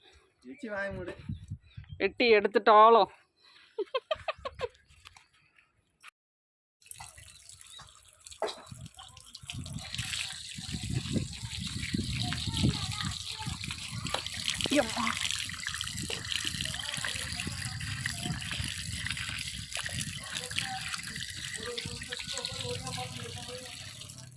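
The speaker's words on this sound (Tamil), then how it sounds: "எல்லாத்தையும் கழுவி தோலெல்லாம் உரிச்சாச்சு." Harvested farm-grown tubers are washed under running water, a continuous close splashing and gushing that follows a few seconds of brief voices and clatter.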